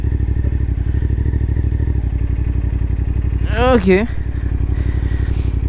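A 2024 CFMOTO 450SR sport motorcycle idles and creeps through a tight low-speed turn, its steady engine pulse loud and close throughout, with a brief rising whine midway and a short spoken word.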